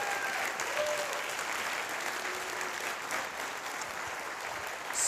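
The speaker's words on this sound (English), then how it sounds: "so big round of applause for him." Audience at the AFRL Inspire 2023 event applauds steadily, a dense, even wash of clapping from a sizable crowd with no talk over it.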